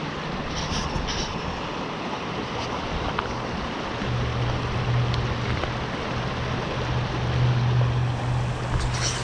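The Roanoke River flows steadily in a broad, continuous rushing wash, with a low rumbling hum rising partway through and no voices.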